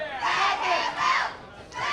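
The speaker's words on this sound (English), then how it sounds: "And this crowd is just egging it on." At an independent wrestling show in Canada, a crowd yells and roars in surging waves. Overlapping voices swell, dip briefly and then build again.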